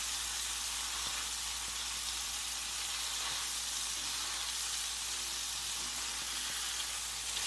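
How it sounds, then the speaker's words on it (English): Burger patties for a patty melt sizzle in a pan, a constant dense hiss that holds steady for several seconds, close and fairly loud, with no voices. "take your spatula, flip them over, and cook them for 3 to 4 minutes again"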